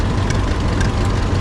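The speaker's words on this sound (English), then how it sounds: "So the tractor pulls the sled down." Tractor engine pulling a walk-on sled at a tractor pull, a loud, steady low rumbling drone close by with no break.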